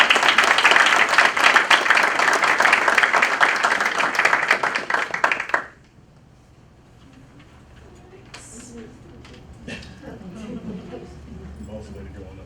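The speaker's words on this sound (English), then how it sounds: "A round of applause for Mr. Chris and his concerned family." Dense applause rings out loudly for several seconds at a school board meeting, then stops abruptly, leaving a quiet room with faint scattered noises.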